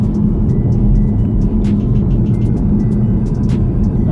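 A 2017 Chevrolet Camaro SS cruises on a damp road, its engine a steady low drone inside the cabin with faint tire hiss and a few light clicks, loud and unbroken, no talking.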